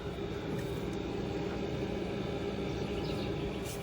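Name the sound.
ice chiller for cold plunge tub running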